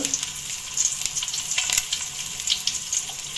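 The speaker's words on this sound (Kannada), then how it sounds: "ಎಣ್ಣೆಡೆ ಫ್ರೈ ಮಾಡ್ಕೊಡು" Egg gravy ingredients sizzle and fry in hot oil in a home kitchen, a steady close crackle broken by a few sharper stirring clatters, with no talking.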